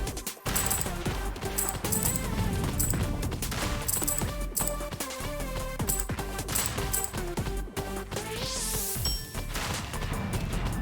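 In the mech-and-bug survival game Project Lazarus, a missile launcher fires dense rapid volleys of explosions and impacts, a continuous loud barrage layered over game music and effects.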